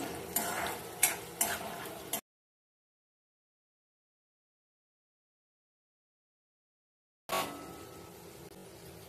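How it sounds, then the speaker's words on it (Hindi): Urad dal and chana dal are stirred and fried in a pan, with crackling and spoon scrapes heard in two short bursts separated by a silent gap. "1 चमचा उडदाची डाळ, थोडीशी चणा डाळ, हेही परतवून घेऊया चांगला"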